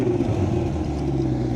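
2025 Chevrolet Corvette C8 E-Ray convertible engine starting remotely from the key fob, then settling into a deep, steady idle rumble heard nearby.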